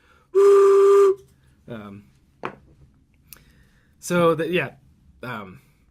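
A short, loud whistle blast sounds once near the start, followed by a few brief tooting notes and quieter clicks.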